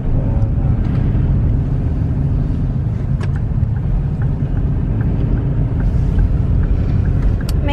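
A car rolls through afternoon rush-hour traffic with a steady low road rumble and wind buffeting, interrupted by a few faint clicks and knocks, recorded from inside the vehicle.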